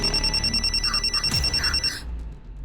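Telephone bell ringing loudly and close in a rapid pulsing trill, several repeated bursts before it cuts off abruptly, leaving low room noise.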